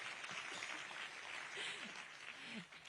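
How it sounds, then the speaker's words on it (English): Applause from an audience at Macron's event with Indian students and scientists in New Delhi, heard as a steady, faint, distant wash of many hands clapping, with soft voices mixed in. "We can also give them a round of applause."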